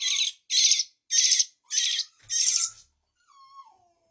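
A pet dog makes a run of five short, high whimpering yelps in even rhythm, then a thinner falling whine, close and loud with no talk over it.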